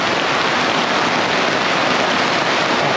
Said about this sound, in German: wenn nachts so der Regen und bei Gewitter so auf das Deck prasselt